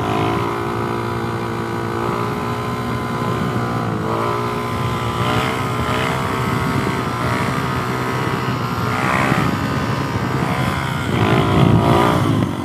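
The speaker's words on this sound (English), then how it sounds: "I guess we can do one more wheelie here" A Suzuki DRZ470SM motorcycle pulls hard in second gear for a wheelie, its engine note rising and holding in a loud, steady drone close to the microphone, with a brief surge near the end.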